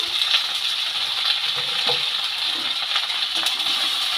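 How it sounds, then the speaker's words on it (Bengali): Okra and potato pieces sizzle steadily in hot oil with salt and turmeric, a dense, even frying hiss with faint crackles and occasional light clicks throughout, close and alone without any voices. "লবণ হলুদ দিয়ে সবজিগুলোকে ভেজে নেব"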